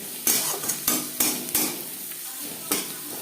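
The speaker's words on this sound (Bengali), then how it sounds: "সবার প্রথমে আমি পেঁয়াজ ভেজে নেব" Onions fry in a pan with a little turmeric, a soft sizzle broken by several sharp clanks of a spatula stirring against the metal, close by and without speech.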